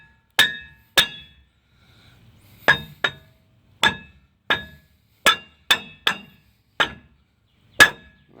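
Sledgehammer blows ringing against a stuck rear brake rotor on a 2002 Dodge Ram 1500, a dozen or so sharp metallic clanks spaced irregularly, some close together, with silence between.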